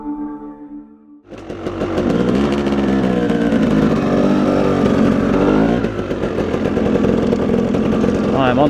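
A motorcycle engine starts up after a brief moment of talk and then runs loudly and continuously nearby, a dense buzzing drone with slight revving, while a voice speaks over it near the end.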